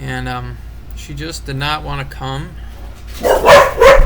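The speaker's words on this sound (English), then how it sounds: "I had to get the dogs to stop barking so I could continue talking" Dogs bark loudly and close by in a home, with a clear burst of barking toward the end after someone talks over a low background hum.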